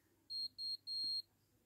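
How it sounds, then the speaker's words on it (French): GHD hair straightener signalling it has reached temperature with three clear, high electronic beeps, two short and a longer final one, close and isolated against quiet background. "c'est 3 petits points, 3 petits bips qui indiquent que la température est prête, elle est chaude"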